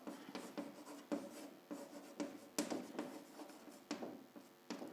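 Pen or marker writing on a board or paper while noting figures for a statistics problem, with repeated short scratchy strokes in an uneven rhythm, close and fairly quiet, with no talk.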